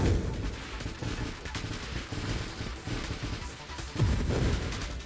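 A ship in the space shooter Nova Drift fires a big volley, heard as a dense, continuous stream of rapid booming shots with a louder surge of blasts near the end.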